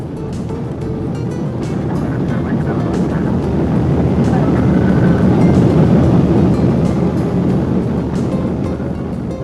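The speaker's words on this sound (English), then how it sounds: "the Hog Wild took to the air for the last time" A vintage aircraft, the Hog Wild, roars loudly and steadily on the short runway at Duxford during its last takeoff, a broad, sustained engine drone that swells and then eases slightly.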